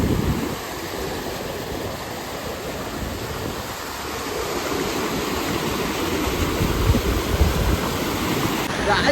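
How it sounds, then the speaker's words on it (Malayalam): Water rushing past the Mukkai bridge in Palakkad during the rainy season makes a loud, steady, continuous roar of flowing current close by. "വെള്ളത്തിന്റെ ശബ്ദവും മൊത്തം തിരമേല അടിച്ച് വരുന്ന മാതിരി"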